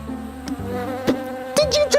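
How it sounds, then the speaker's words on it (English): An Africanized killer bee buzzes close by with a droning hum that shifts in pitch, broken by a few sharp bursts and swells as it moves around. "these Africanized bee, or these killer bees, like the one that tried to kill me now"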